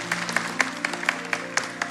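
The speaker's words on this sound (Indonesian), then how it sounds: "Kasih tepuk tangan untuk Tuhan." A church congregation claps in a slow, rhythmic unison beat, about eight distinct claps spaced evenly over a low hum of music or organ, fairly quiet and somewhat distant.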